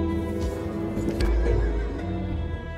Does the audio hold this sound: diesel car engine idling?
no